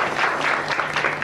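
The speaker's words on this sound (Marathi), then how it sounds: "प्लीज जोरदार टाळ्या वाजवून आपण सुरभीचं स्वागत करूया" A studio audience claps loudly and steadily to welcome actress Surbhi Hande at a Mangalagaur celebration, a dense burst of applause with no talking over it.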